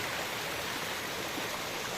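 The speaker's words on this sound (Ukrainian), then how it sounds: "Струмочок, я б навіть сказав, якийсь водоспадик." Rushing water of a small mountain stream tumbling over a little waterfall among rocks, a steady close broadband roar with no pauses and no voices.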